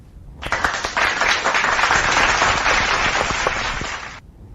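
A burst of applause from a crowd, steady clapping for about four seconds before cutting off.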